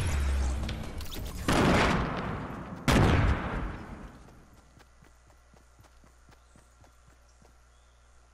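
Bombing in the video game Dubnite: two heavy, loud explosions come close together near the start. A fading rumble follows, then a string of quick clattering impacts.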